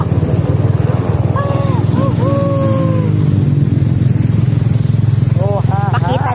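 A small, short motorcycle idles steadily with a low, continuous engine rumble close by, while people talk over it.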